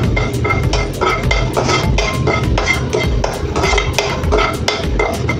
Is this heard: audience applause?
no